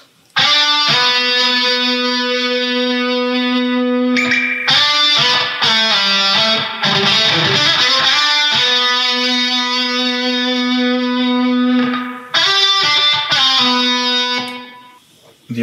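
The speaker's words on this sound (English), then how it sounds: "And then here is the distortion tone." A distorted electric guitar tone from the JST Toneforge Guilty Pleasure amp plugin, with overdrive engaged, plays sustained, harmonically rich chords and riffs, loud and continuous with a few brief breaks.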